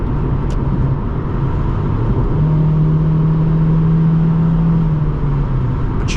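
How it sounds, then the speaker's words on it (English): A 2001 Honda Civic LX pulls under throttle at highway speed, heard from inside as a steady engine drone and road roar with a rising engine tone that holds through the middle, no talking. "You pop in the throttle and it goes."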